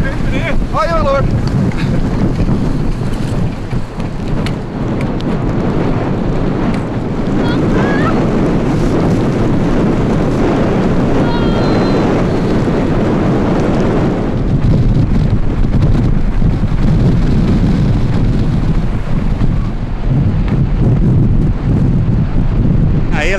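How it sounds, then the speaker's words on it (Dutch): Strong, steady wind roars across a beach, buffeting the microphone with continuous low rumble for the whole stretch, with surf faintly underneath and brief bits of talk mixed in. "Ik denk even naar buiten en even genieten van deze harde wind."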